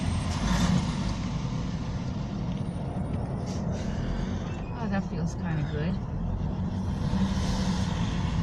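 Road traffic rushing past open car windows on a drive in Tucker, a steady loud wind-and-tire roar with passing trucks and cars, while people talk inside the car.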